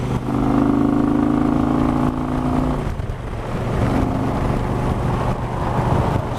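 A motorcycle with a stage one upgrade and new exhaust pipes accelerates to pass on a windy road, reaching sixth gear near 80 mph: a loud, steady engine drone that dips briefly around a gear change, then climbs again under rushing wind.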